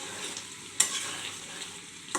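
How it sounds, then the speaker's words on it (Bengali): Chicken curry meat being stirred and fried in a pan as its water cooks off: a steady sizzle runs throughout, with two sharp scraping stir strokes, one early and one at the end. "এভাবে নাড়াচাড়া দিয়ে আমরা একটু মাংসটা এই পানিটা শুকাই নিব"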